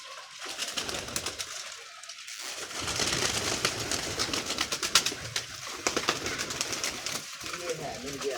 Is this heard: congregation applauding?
no